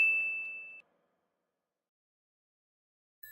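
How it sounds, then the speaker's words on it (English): A single bright notification-bell ding rings out and decays quickly into silence, with a faint tone at the very end. "hit the notification bell"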